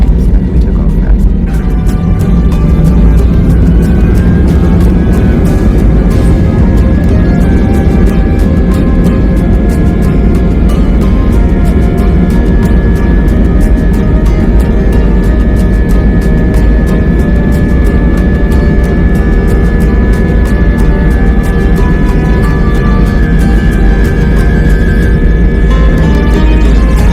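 Inside an Airbus A320 airliner during takeoff, a loud continuous engine rumble and steady whine fill the cabin throughout.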